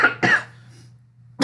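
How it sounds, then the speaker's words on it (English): Two quick harsh coughs close by, a pause, then a third cough begins. "I'm so sorry about the coughing."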